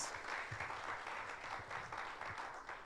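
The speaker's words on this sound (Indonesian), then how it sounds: "Berikan tepuk tangan yang meriah buat Tuhan Yesus." Congregation applauding during a church worship service, a steady dense wash of many hands clapping throughout, moderately loud and continuous.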